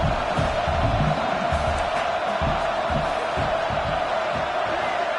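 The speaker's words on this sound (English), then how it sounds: "The crowd is roaring, trying to help this defense on fourth down." A football stadium crowd roars on fourth down in a college game between ASU and Miami, a sustained loud wall of cheering and yelling throughout.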